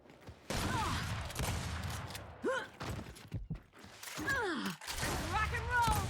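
Repeated gunfire from pop shotting in Gears 5 on PC cracks in short bursts, mixed with thuds, creaks and grunting game voices.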